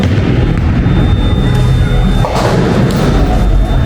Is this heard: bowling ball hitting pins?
yes